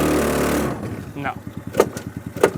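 A mini Jeep engine runs with a rough, pulsing putter, loud at first, then idling with sharp repeated knocks and rattles as it turns over close by.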